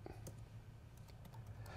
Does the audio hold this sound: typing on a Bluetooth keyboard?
yes